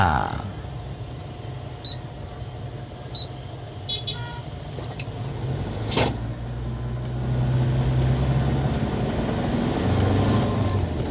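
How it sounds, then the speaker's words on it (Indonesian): A steady low diesel engine drone fills the cabin of an Isuzu Panther Hi Sporty and deepens slightly toward the end, with a few faint clicks and beeps. "suara frekuensi rendah dari mesin diesel. Berikut getarannya."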